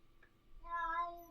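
A cat meows once, a drawn-out, clear tonal cry that rises and holds before fading, close to the microphone against quiet room background.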